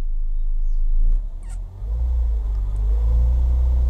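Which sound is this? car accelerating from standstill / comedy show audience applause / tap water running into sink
car accelerating from standstill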